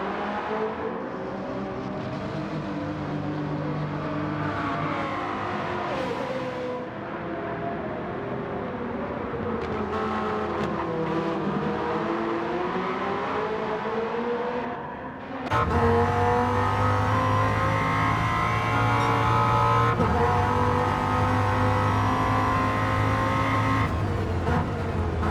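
A powerful, supercharged-sounding Dodge Viper race car engine in Gran Turismo 7 roars and revs continuously, its pitch sweeping up and down through gear changes, loud and close with no talking.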